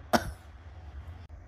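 One sharp, close cough breaks off a sung call to prayer, a single harsh burst followed by quiet breathy room tone.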